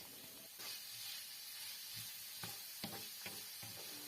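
Meat frying in a pan as soy sauce is added and stirred in, a steady close sizzle with a few sharp scraping clicks from the stirring utensil.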